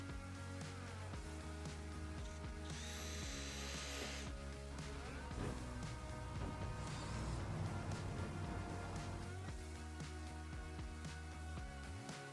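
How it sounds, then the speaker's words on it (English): Sharp point roofing screws being power-driven through metal pieces into the wood rails of a garden box, a continuous, faint whirring drill drone with a brief high-pitched squeal partway through. "Use the sharp point roofing screws to fasten the metal pieces to the wood"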